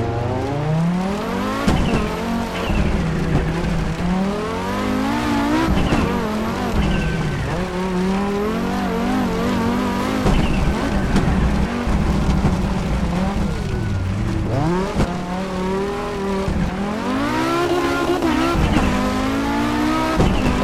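An Audi Quattro S1 E2 rally car in Assetto Corsa drifts with all four wheels through forest corners, its engine loud and continuously revving up and down with sweeping pitch changes and tire squeal, no voices over it.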